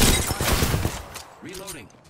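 A short, dense burst of gunfire from the video game Apex Legends, loud and close at the start, fading within about a second, with brief voiced game sounds after it.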